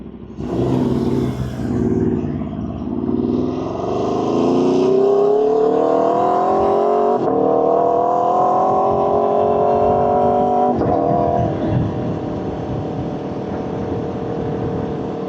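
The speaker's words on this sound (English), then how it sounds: "the bike sounds pretty quiet right now when riding with this helmet" A motorcycle engine, heard from inside a KYT helmet while riding, hums and rises in pitch as it accelerates, muffled and steady under a rushing wind roar, with gear shifts breaking the tone.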